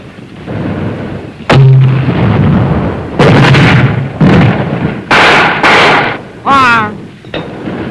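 Gunfire from a reinforced rifle platoon attacking a built-up area: about five loud, close bursts of firing in irregular succession, with a shouted command between them.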